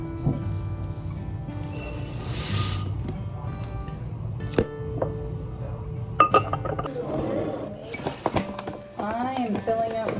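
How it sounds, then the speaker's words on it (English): Glass baking jars clink and knock together in a home kitchen as they are filled with fresh ingredients, giving sharp scattered taps and rattles among handling noises, with a voice talking now and then. "I am filling up my baking jars."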